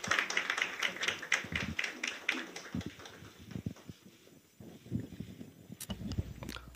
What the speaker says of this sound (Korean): 더 큰 환영의 박수 부탁드립니다.